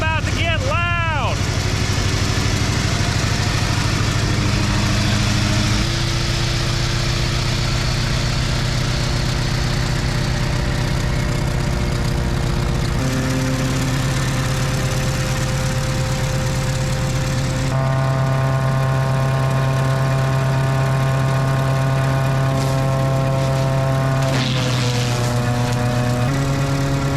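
An old junkyard wood chipper's engine runs loudly and steadily close by. It is held at each speed, then climbs in several distinct steps as the RPM is raised, settling into a higher, harder drone.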